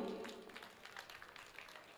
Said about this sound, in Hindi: तालियां बजाओ उनके लिए।